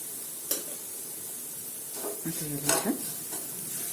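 Chilies with onion-garlic masala sauté quietly in a pan for sprouted matki usal, a soft sizzle broken by a few spoon scrapes and stirring knocks, with a brief low tonal sound partway through.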